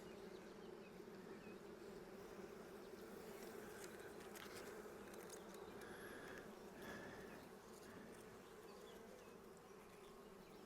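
Honey bees at an open hive during an inspection make a dense, continuous buzzing hum close by, steady and fairly loud with a few individual bees flying past, and no talking.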